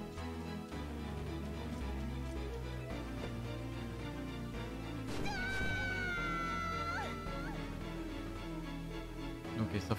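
A cat meows in the video game Shantae and the Pirate's Curse, a drawn-out tonal call over steady game music, fairly clear and alone without talk.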